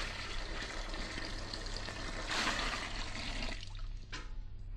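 Water poured into a witch's cauldron, a steady close rush of liquid with a brief louder gush midway before thinning to a trickle and a final splash.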